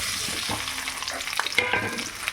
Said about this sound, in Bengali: এবার আমি আলুগুলোকে দিয়ে একটু ভেজে তুলে নেব